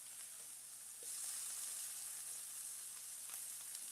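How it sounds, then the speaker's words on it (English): Meat searing in a hot pan gives a steady, soft broadband sizzle that swells slightly after the first second and holds evenly, with no voices. "Ooh, these are starting to sear already."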